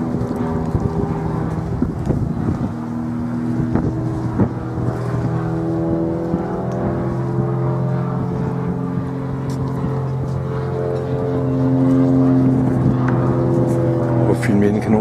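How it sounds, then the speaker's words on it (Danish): Sehested torpedo missile boat running underway, a steady low engine drone with layered harmonic hum and wind buffeting the microphone, with people talking faintly over it throughout. "Kraftig båd den her."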